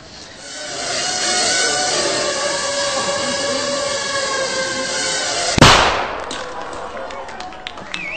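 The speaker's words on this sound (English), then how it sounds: "That little bang is enough to penetrate the skull and destroy the contents." A mini drone carrying a 3-gram shaped explosive charge detonates with a single sharp bang after a sustained high whirring buzz, followed by brief crackling debris.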